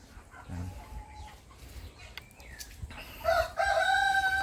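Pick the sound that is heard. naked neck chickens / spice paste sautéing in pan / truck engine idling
naked neck chickens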